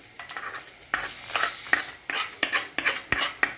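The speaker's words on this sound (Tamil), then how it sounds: "இப்போ நான் வந்து பாயசத்துலேயே சேர்த்துறேன்." Spoon stirring golden-brown fried ingredients into payasam, a sweet pudding, in a pot: a run of quick clinking scrapes and soft sizzle, fairly close and moderately loud, with no talk.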